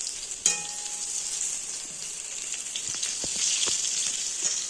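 Slices of pointed gourd (potol) frying in hot oil, giving a steady, bright sizzle with a sudden clink near the start and faint scraping and light taps as the pieces are turned.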